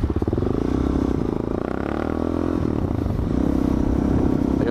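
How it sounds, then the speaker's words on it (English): Honda CBR sport motorcycle climbing a hill off road, its engine droning steadily and loudly up close with a rumbling, harmonic tone and loose clattering over the uneven ground throughout. "CBR going off road, boy. Hill climbing."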